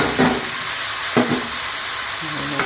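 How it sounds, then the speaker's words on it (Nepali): Onions frying in a pan over a steady sizzle, with a few scraping stirs spaced through it, close and fairly loud while browning for egg biryani. "हल्का रातो लगाउनुसम्म प्याजलाई चलाउनु"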